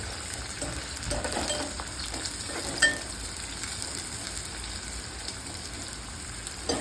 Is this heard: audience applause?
no